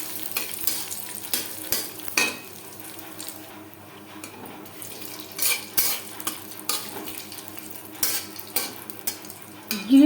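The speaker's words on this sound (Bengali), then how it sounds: "তিন চামচ রিফাইন্ড অয়েল দিয়ে দিলাম একটা তেজপাতা ছোট এক চামচ গোটা জিরে" A bay leaf and whole cumin frying in refined oil, a soft sizzle under intermittent sharp clinks and stirring taps of a spoon against the pan, with no voices.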